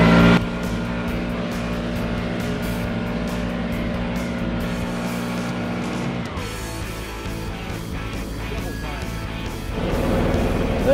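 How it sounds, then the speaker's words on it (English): A leaf blower is used to clean solar panels, its loud steady droning motor roaring close by, shifting in pitch partway through and rising again near the end. "But if I use this blower regularly, it should work to keep the panels up here."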